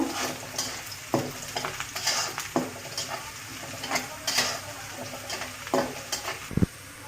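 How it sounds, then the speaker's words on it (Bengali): Onion frying in oil in a pan until brown, a steady sizzle with intermittent scrapes and knocks of a spatula against the pan, close and moderately loud, no talking. "আমি পেঁয়াজটা বাদামি কালার করে ভেজে নেব"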